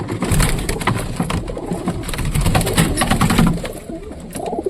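Domestic pigeons coo continuously in a coop, with soft layered calls from several birds close by and some rustling throughout.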